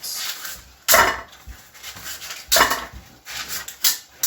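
A utensil stirring vanilla pudding in a pan, scraping and clinking against the metal in several sharp, irregular bursts, close and fairly loud, with no talking.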